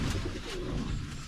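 A pigeon cooing close by in a farmyard with goats, a soft low murmuring coo over a rough, noisy background.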